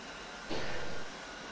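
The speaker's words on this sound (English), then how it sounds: "Alright, spooling up the left engine." The left jet engine of an A-10C in the DCS flight simulator spools up, a faint, brief swell of whining roar that rises and then settles back into a low background hum.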